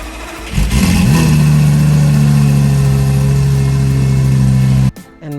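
A 2004 Lamborghini Gallardo engine revs up loudly and holds a high, steady howl for several seconds, then cuts off abruptly near the end, with no talking.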